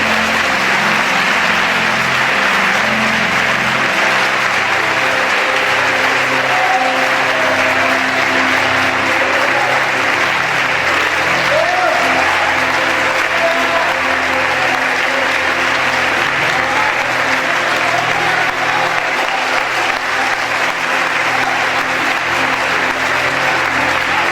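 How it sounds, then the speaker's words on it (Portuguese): A church congregation at a Sunday worship service applauds loudly and steadily, a dense, continuous roar of clapping hands that fills the room for the whole stretch with no pauses. "Todos podem aplaudir bem forte ao Senhor"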